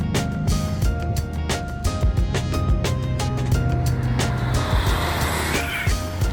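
A Hennessey-tuned twin-turbo Cadillac CTS-V engine roaring loud and close while driven, with rising revs, sharp gear-change breaks and a steady powerful drone throughout.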